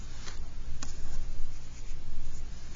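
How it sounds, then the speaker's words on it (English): A pen scratches steadily across a fresh sheet of paper, with soft rubbing and a couple of light taps, close-up and continuous with no talking. "Get a fresh sheet of paper here."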